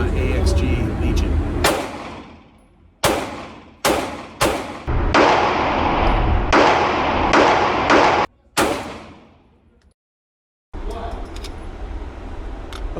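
Rapid strings of 9mm gunshots from a Sig Sauer P365-AXG Legion pistol firing PMC 115 grain ammunition, loud sharp cracks in several bursts separated by pauses, with echoing decay and a brief silence near the end.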